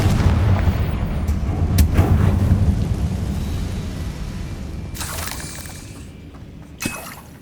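A Confringo fire spell explodes in Hogwarts Legacy with a heavy rumbling blast and crackling debris, followed by a few sharper cracks and a quieter tail.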